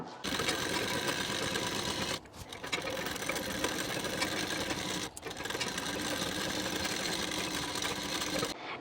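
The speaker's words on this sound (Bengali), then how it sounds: "এখান থেকে এখন নিচ পর্যন্ত হাফ ইঞ্চি গ্যাপিং দিয়ে এই পর্যন্ত সেলাইটি দিয়ে নেব" A sewing machine stitches a saree petticoat in a steady, close mechanical whir, stopping briefly twice before running on, with no talking.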